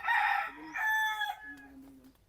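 Rooster crowing among breeding chickens on a farm: a few close, loud, tonal crows in the first second and a half, then a softer low call trailing off.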